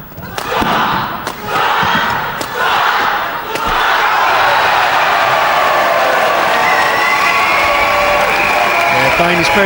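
Crowd at an All England badminton match in 2005, a men's doubles between Chinese pair Cai Yun and Fu Haifeng and a Danish pair, cheering and applauding loudly and continuously, with sharp thuds early on.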